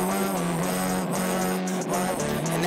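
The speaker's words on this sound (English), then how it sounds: "and then I put the distortion pedal on and I made it sound like this" A melody played through a distortion pedal comes out as a dense, fuzzy, saturated tone, loud and continuous, with the gritty drone holding steady throughout.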